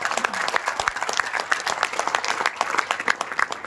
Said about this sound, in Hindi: सर एक जोरदार ताली